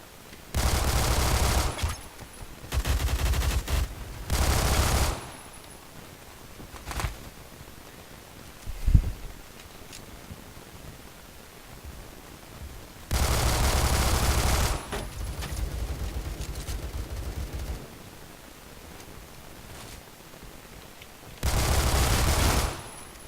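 Bursts of Glock 18 full-auto fire in Phantom Forces, loud rapid strings lasting a second or two each, repeated several times with quiet gaps and a single sharp shot between.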